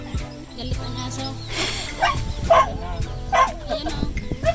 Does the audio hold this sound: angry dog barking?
yes